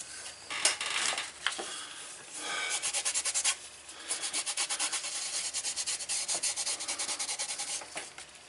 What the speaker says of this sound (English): We'll give these a real quick burnish.